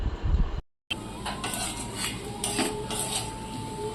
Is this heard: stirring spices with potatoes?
yes